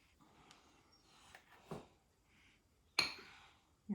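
A spoon clinks against a bowl of homemade ranch dressing, a few sparse, quiet taps with one sharper clink near the end, heard close in a quiet room.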